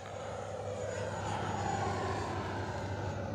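XFly Alpha 80mm EDF RC jet passing over a runway, a smooth whooshing ducted-fan whine swelling slightly as it flies by, fairly faint and steady, with no talk.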